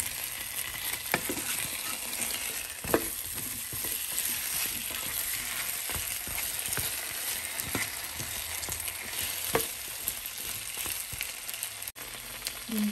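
Potato slices frying in a pan, a steady broadband sizzle with scattered scraping clicks of a spoon stirring through them, continuous and close.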